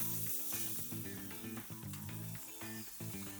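Steak sizzles on charcoal grill grates, a constant bright hiss that sits partly under loud background music, with no talking.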